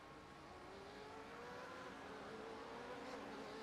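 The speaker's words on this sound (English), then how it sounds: "A few more cars coming on down." Race cars roar past on a sim-racing circuit at Road America, a steady, fairly faint engine drone with rising and falling pitch as several cars go by, no talk over it.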